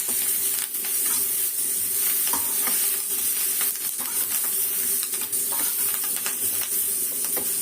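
Food for a fish fry sautés in a pan with a loud, constant sizzling hiss, broken by occasional stirring scrapes, close and with no voices.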